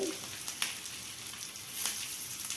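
Fish shallow-frying in about two spoons of oil with curry leaves, giving a steady close hiss and crackle with small pops scattered throughout.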